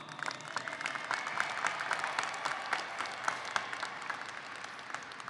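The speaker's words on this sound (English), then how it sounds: "Let's give them a round of applause." Audience applauding at a 2023 Arlington High School graduation ceremony, a steady wash of many hands clapping in a large crowd, sustained and even throughout with no talk over it.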